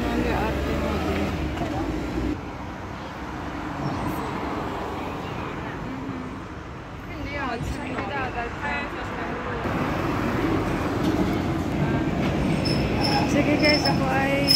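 Tram in Rome arriving at a station, heard as a steady rumble of wheels on rails that builds toward the end, with a faint squeal and voices talking over street noise.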